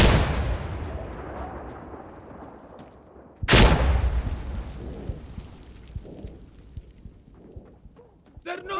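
A frag grenade explosion and gunfire in the tactical shooter game Insurgency Sandstorm: a sudden loud blast partway through, then rumbling decay and scattered shots, with heavy noise before it and voices shouting over the action.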